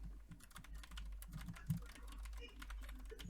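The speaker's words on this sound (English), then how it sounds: "Sorry, I'm just typing." Quiet typing on a computer keyboard, with soft rapid key clicks in an irregular patter over a low steady hum, faint and close, under a murmur of talk.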